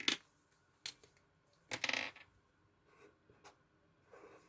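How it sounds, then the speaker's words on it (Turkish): A pen is set down and picked up on a hard surface, a few sharp clicks and brief scrapes separated by quiet pauses, close by. "kalemimi değiştireyim"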